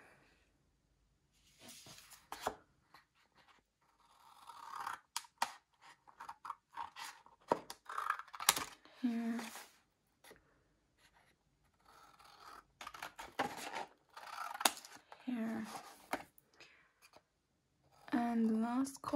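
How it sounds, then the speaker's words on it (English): Scissors snipping corner shapes out of card for a shadow box, a series of short crisp cuts and paper rustles spread irregularly, close and quiet, with a person talking at times. "gonna cut these shape, well, the corner shapes out so I can fold it over"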